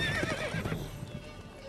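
Roach, a horse in the Witcher 3 video game, gives a short whinny over clopping hooves, close and clear, the neigh fading within a second as the hoofbeats carry on.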